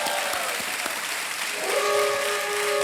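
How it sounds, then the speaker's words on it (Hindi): Studio audience on a television quiz show applauds steadily, a dense wash of clapping throughout, with a tonal musical sting rising underneath in the second half. "एक बार फिर तालियों के साथ इनका स्वागत करते हैं"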